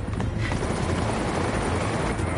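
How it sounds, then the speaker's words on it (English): A helicopter in the Telltale Batman video game roars steadily up close, a dense continuous rotor and engine wash with a low pulsing thump throughout. "she gotta fucking go up the helicopter?"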